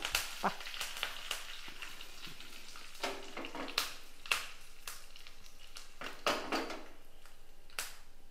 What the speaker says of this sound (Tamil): நான் 2 கொத்து கருவேப்பிலை போடுறேன்